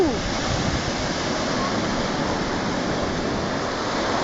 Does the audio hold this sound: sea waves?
yes